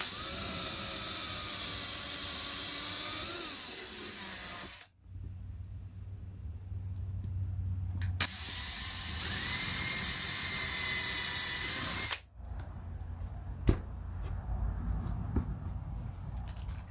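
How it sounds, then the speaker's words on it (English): Power drill boring a pickup hole in a wooden cigar box guitar, a loud steady whine in long bursts separated by short pauses, recorded up close. "Put the drill bit in the center."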